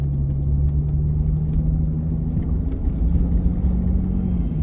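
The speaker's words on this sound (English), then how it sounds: "check this out. That's my blower motor. It's just loving life." A Jeep Cherokee's heater blower motor runs continuously, a loud steady whirring hum with a low rumbling drone throughout, heard close up with no talk over it.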